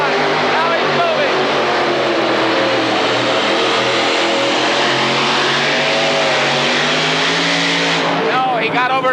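A modified pulling tractor at a 1986 indoor super pull roars continuously at full power, a loud, dense engine blare that holds steady throughout, with an announcer's voice heard over it.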